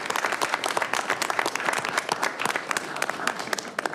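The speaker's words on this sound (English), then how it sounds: "Give them having another us. round of applause" Attendees at a board of directors meeting give a group a round of applause, with close, dense clapping that stays lively and continuous throughout.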